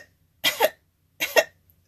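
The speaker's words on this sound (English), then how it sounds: "That was my, my upper class cough." A person gives two short, deliberate 'upper class' coughs about a second apart, close up and clear, with silence around them.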